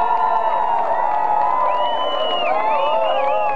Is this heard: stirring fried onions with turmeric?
no